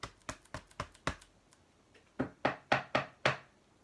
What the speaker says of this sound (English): And knock on our door.